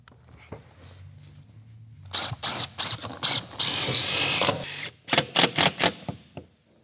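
Power tool driving fasteners through plates to secure a TPO roofing RTS strip, heard as a string of loud, sharp bursts of whirring and ratcheting, one longer sustained run in the middle and several quick short bursts near the end.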